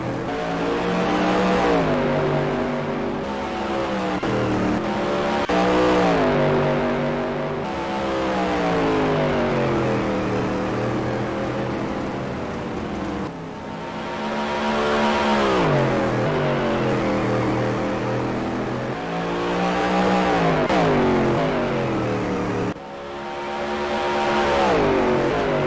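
Supermodified race cars at Mesa Marin Raceway roar around the oval, engines rising and falling in pitch as they accelerate and pass in repeated loud waves, with no talk over them.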